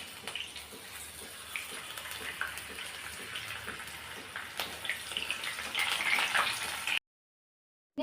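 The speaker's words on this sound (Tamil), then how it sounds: "அதே மாதிரி நம்ம மீதம் இருக்கிற வாழைப்பூவையும் பொறிச்சு எடுத்துக்கலாம்" Banana flower pieces deep-frying in hot oil, a steady close crackling sizzle running unbroken for about seven seconds before cutting to silence.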